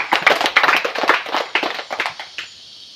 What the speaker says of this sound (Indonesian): Ayo, tepuk tangan buat Pina.